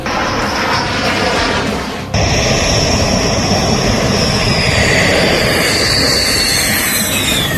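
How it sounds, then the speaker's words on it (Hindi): Rafale fighter jets flying over Ambala airbase, a loud continuous jet roar filling the whole span, with a brief dip and sharp surge near the start as the aircraft pass close overhead. "भारतीय वायुसेना के तरकश में 5 राफेल लड़ाकू विमान आ गए।"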